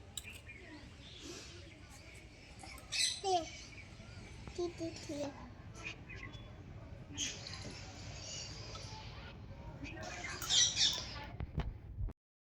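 Sharp bird squawks and chirps break through at a few moments, mixed with a voice and other chatter in a quiet room.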